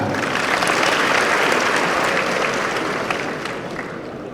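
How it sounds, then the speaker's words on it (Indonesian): Loud, full applause from a big graduation audience of transport-school students, sustained clapping that stays even for most of its length before tapering off toward the close. "Tepuk tangan."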